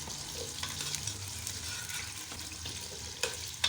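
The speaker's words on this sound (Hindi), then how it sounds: "जैसे मेरे थोड़े से आलू फ्राई हो जाएंगे फिर मैं बैंगन डाल दूँगी" Potatoes frying in oil for aloo baingan sabzi, a steady low sizzle with faint stirring scrapes and a couple of brief clinks near the end, no voices.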